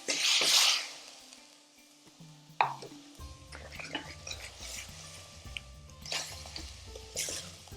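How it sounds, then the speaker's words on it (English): A pan of madras base gravy cooks on the stove with soft sizzling and bubbling, broken by a spoon scraping and clinking against the sides as it is stirred, close and moderately loud. "Cook out that gravy nicely, taking off all the caramelised gravy that you get off the sides of the pan"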